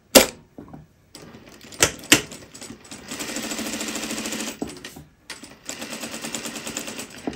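A sewing machine stitches pink fabric for a pair of pants, starting with a few sharp clunks, then running in two long, loud, rapid mechanical bursts separated by a short stop, close and alone.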